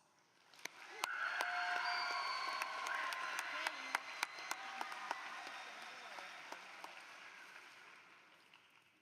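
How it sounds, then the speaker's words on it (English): An audience at the Newport High School graduation ceremony applauds: a steady, distant wash of many hands builds quickly and holds for several seconds, with a few sharper individual claps standing out before it slowly fades. "Please join me in giving her a warm round of applause."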